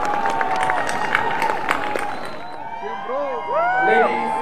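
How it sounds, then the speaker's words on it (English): At the closing of the Hornbill Festival, an outdoor crowd claps for the cultural troupes in a dense wash of applause that fades after a couple of seconds, followed by a voice speaking over a public address. "Let us give them a big round of applause for the wonderful performance they have offered over the 9 days."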